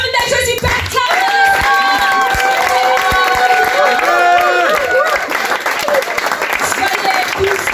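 A church congregation at a women's evangelical convention breaks into loud, sustained applause with cheering, while amplified voices and music carry over the clapping throughout.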